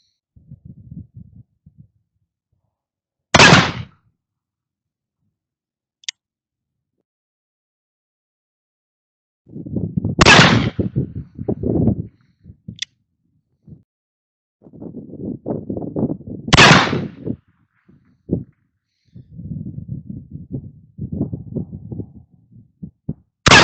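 Remington percussion revolver fired with RWS 1075 caps: four loud, sharp single shots spaced several seconds apart outdoors, with low rumbling wind and handling noise between them.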